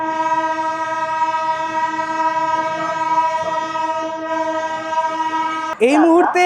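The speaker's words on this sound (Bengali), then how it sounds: "মুহূর্তে আমাদের ট্রেন এসে দাঁড়ালো" A train pulls in and stops at Gaya Junction in Bihar, giving a loud, steady tonal drone over a low rumble for several seconds before a voice starts speaking at the very end.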